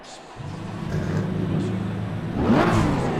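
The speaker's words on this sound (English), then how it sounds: "whenever you try out a new car in ACC, you got to shut up for at least a few seconds" A turbocharged race car engine in the racing video game Assetto Corsa Competizione idles low, then revs sharply upward in a loud rising whine to the rev limiter near the end.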